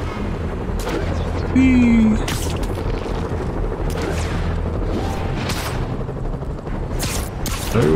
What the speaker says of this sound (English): Everyone's shooting at Spidey